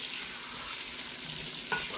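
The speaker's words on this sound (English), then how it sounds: "we are starting to sizzle" Sausage sizzles steadily in a hot pan with garlic, a continuous crackling hiss with a brief sharper spatter near the end.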